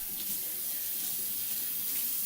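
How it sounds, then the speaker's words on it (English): Water runs steadily from a kitchen tap during handwashing, a soft continuous hiss and splash at moderate distance with no talking. "Wash your hands"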